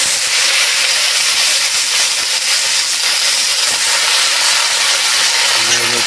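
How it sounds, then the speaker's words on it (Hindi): Pumpkin pieces hit a hot pan already holding fried onion and garlic for a village-style spicy curry, producing a loud, steady sizzling hiss that runs unbroken throughout without any talking. "और अब कद्दू को फाइनली डाल लेते हैं भूनने के लिए।"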